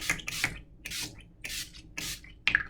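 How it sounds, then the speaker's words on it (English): Urban Decay All Nighter setting spray hisses out in five short, evenly spaced pumps, each a brief close airy spritz separated by silence. "the Urban Decay All Nighter Setting Spray"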